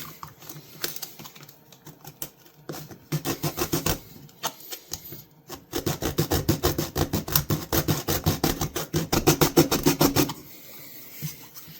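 Rapid scraping strokes from sanding a vintage shaving brush handle flat, coming in fast rhythmic bursts that pause, then resume in a long busy run before stopping, close and fairly loud with no talk.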